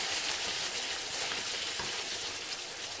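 Spice masala for spicy chicken frying in an uncovered pan, a dense, even crackling sizzle that fills the whole stretch, close and steady with no talk.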